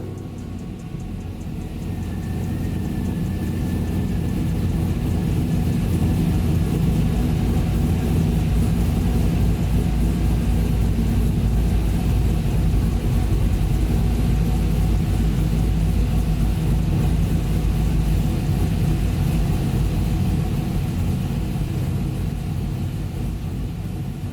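Toyota Land Cruiser fitted with a swapped 6-litre LS V8 running on a dyno: a steady, loud, deep engine drone with heavy low rumble, held continuously without breaks.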